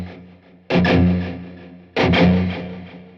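Two distorted guitar chords are struck through a Quad Cortex pedal, each ringing out with delay and reverb tails, loud and close.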